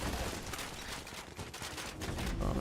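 A minigun in the video game The First Descendant fires in a continuous, dense roaring burst that runs loud and unbroken throughout, with no talk over it.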